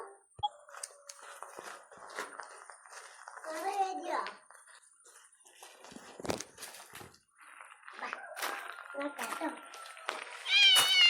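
A cat meows several times in short cries between bursts of a child's chatter, a nearby household scene with intermittent speech and a higher-pitched meow near the end.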